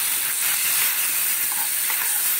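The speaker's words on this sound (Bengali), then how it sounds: "অল্প একটু সাঁতলে নেব।" Filling for a shrimp, potato and elephant-foot yam chop lightly frying in a pan, giving a steady, even hiss and sizzle throughout with no talking.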